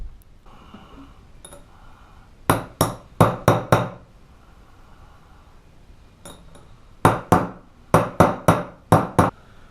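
A hammer driving a bearing race onto a spindle through an old sanded race, two quick rounds of five or six sharp metallic strikes, loud and close, with a short pause between them.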